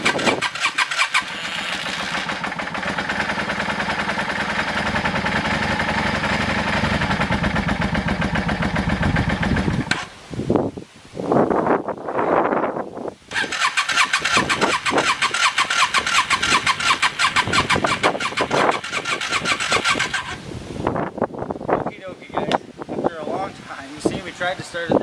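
A Yamaha V-Star 650 Classic motorcycle with a rusty gas tank, after sitting for weeks, cranks on choke, then catches and runs with a loud, uneven, revving engine close by, with a brief stumble midway before settling into a rough idle.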